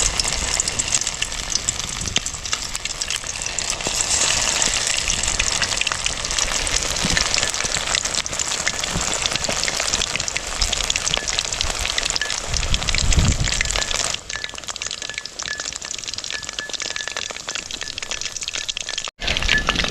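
Quail roasting in hot oil in a pan sizzles and crackles continuously and loudly, with a brief stir or shift in tone near the end.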